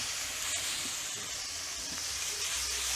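Meat searing in a non-Teflon pan gives a steady, moderately loud hiss and sizzle throughout, with faint clinks and no talking.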